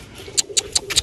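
A nesting female pigeon coos close by in a short run of four soft, evenly spaced notes with no talking.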